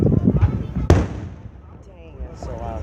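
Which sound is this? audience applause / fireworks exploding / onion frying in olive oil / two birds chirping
fireworks exploding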